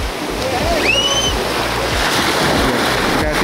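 Surf and waves wash continuously at a beach, a loud roar mixed with wind buffeting the microphone, while a faint voice or cry rises briefly near the start.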